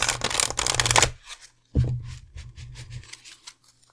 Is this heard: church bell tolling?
no